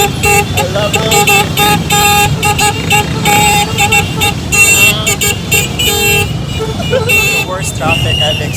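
Heavy street traffic in Cebu during Sinulog, crowded with motorcycles, a loud continuous engine roar with repeated honking horns and voices mixed in throughout.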